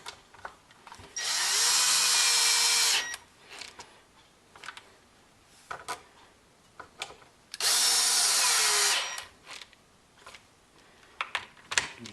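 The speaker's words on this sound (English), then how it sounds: "And I'll pop these screws all back on." A power drill drives screws back into a Poulan weed whip, two separate whirring bursts of a couple of seconds each, close and loud, with small clicks and handling noises between them.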